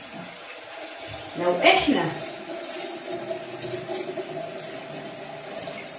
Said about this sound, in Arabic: هحط مية سخنة، سخنة من السخان بتاع البيت عادي جدا طبعا